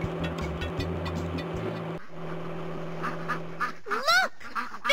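Baby ducks quack in a Dora the Explorer ride-along city driving game, a short burst of rising chirpy calls near the end over a steady engine-like hum and game background.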